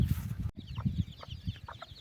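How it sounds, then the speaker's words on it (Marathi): Hens sitting with their newly hatched chicks on a Maharashtra farm give soft, close clucks, with short high peeps from the chicks scattered over the low murmur. "ह्या दोन कोंबड्या बसवल्यात कारण पिल्लं झाले त्यांना"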